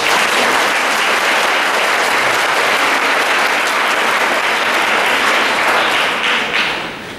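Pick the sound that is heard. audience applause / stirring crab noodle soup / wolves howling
audience applause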